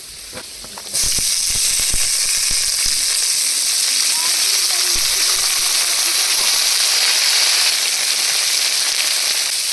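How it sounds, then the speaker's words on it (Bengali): Potatoes and garden vegetables frying together in a pan of oil for khichdi, a loud, close, continuous sizzle that starts suddenly and holds steady. "আলুগুলো এপাশে তিন চার মিনিট ভেজে নিয়েছি এবার সবজিগুলো দিয়ে একসাথে ভেজে নেব"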